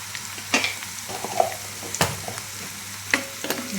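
Onions stirred and frying in a pan with turmeric added, giving a steady soft sizzle broken by a few sharp scraping stirs and clinks, close up with no talk.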